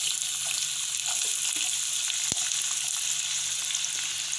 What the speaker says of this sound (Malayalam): നമുക്ക് ഇതിൽ കുറച്ച് സവാള ഇട്ട് കൊടുക്കാം